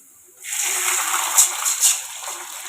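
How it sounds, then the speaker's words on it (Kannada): Water gushes and splashes steadily into a pan of curry leaf and coriander seasoning for upma, starting abruptly and continuing for a couple of seconds, close and fairly loud. "ಇವಾಗ ನೀರು ಹಾಕೊಕತ್ತೀನಿ."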